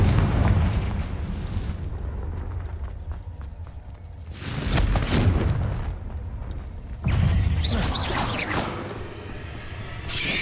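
Confringo fire-blast spells in Hogwarts Legacy go off as loud booming explosions, one near 4.5 seconds and another around 7 seconds, over continuous rumbling game noise with no talking.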